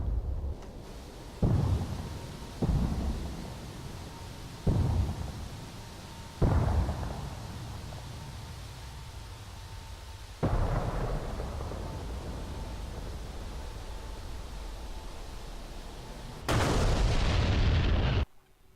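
Bomb blasts from an A-10C in the DCS combat flight simulator: a series of loud, booming explosions at irregular intervals, each with a rumbling tail, ending in a heavier burst.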